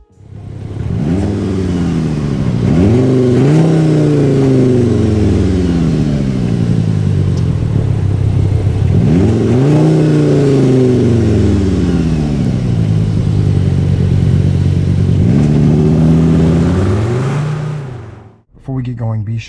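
A 2022 Skoda Kodiaq RS accelerates hard on the Autobahn, its engine note climbing repeatedly through the gears with drops at each shift, loud and close from start to finish before cutting off abruptly.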